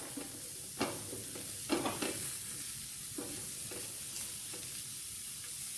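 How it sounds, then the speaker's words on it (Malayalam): Spinach stems sauté with ground coconut paste in a pan, giving a soft low sizzle. A few scraping stir strokes punctuate it, quiet and close, with no talking. "അരിഞ്ഞു വെച്ചിരുന്ന ചീരയിലയുടെ തണ്ട് ആദ്യം നമുക്ക് ഇട്ട് കൊടുക്കാം അരപ്പിൻ്റെ കൂടെ ഒന്ന് വഴറ്റി കൊടുക്കാം"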